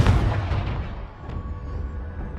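Confringo fire-blast spell from Hogwarts Legacy, a booming low burst at the start with a rumbling tail that fades over two seconds, heard alone.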